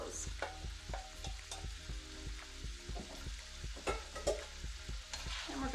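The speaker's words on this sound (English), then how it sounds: "we're gonna give it a stir just to get the oil and stuff mixed in with it and the seasonings" Tail-off shrimp fry in oil with seasonings, a close, constant crackling sizzle broken by regular scraping knocks of a spoon stirring the pan.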